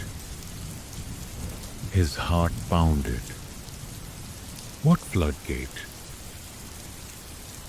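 Steady rain on a stormy night pours in a continuous broadband hiss throughout, with a calm narrating voice speaking over it in two short bursts.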